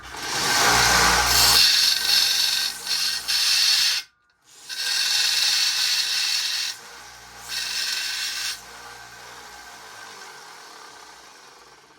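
Bench grinder wearing the tip off an old bit, loud continuous grinding in bursts with a brief stop around four seconds, then resuming and tapering to a quieter rasp.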